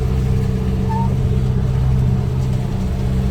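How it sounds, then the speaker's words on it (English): Steady engine drone of a fishing boat under way in Bridlington Bay, a continuous low hum with tonal harmonics running evenly and fairly loud throughout. "That engine sounds great."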